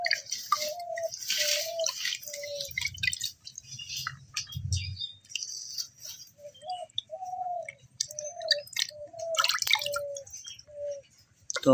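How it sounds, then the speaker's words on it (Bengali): Peeled potatoes are rinsed in water at an outdoor winter family picnic. Soft splashes and drips come in irregular bursts, while birds chirp repeatedly in the background. "এবার আমরা আলুগুলোকে ধুয়ে তুলে নিচ্ছি"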